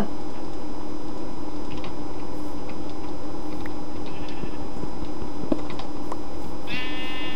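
A sheep bleats in a video game, one clear wavering bleat near the end over a constant loud game background with scattered clicks and keyboard-like taps.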